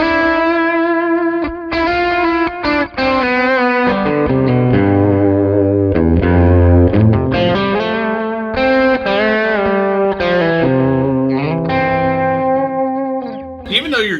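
An electric guitar runs through a delay pedal with some distortion, playing sustained chords and melodic notes whose repeats trail behind them, giving a full, loud texture with no talking.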